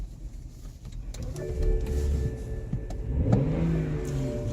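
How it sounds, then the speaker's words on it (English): A BMW X5 E70 engine cranks and catches, settling into a steady idle at close range after a faint electric whir, with the rumble swelling briefly as it fires. "Start the car."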